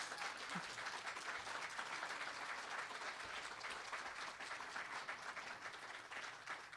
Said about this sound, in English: Could we have a round of applause now for all the candidates?